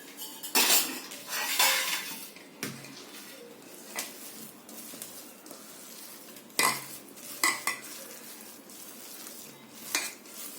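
A spoon clinks and scrapes in a bowl as a vegetable cutlet mixture of carrot, coriander, chilli, salt, coriander seed, cumin and black masala is stirred together, giving irregular metallic knocks and scraping bursts, close and fairly quiet, with no talking.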